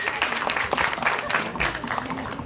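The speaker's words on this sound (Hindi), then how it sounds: "एक बार जोरदार ताली होनी चाहिए अनुराग के लिए" An audience applauds a filmmaker named Anurag at a Border 2 film event: dense, sustained clapping from a crowd, close and loud, continuing evenly across the moment with a voice mixed faintly into it.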